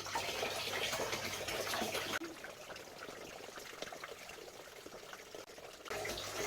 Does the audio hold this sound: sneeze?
no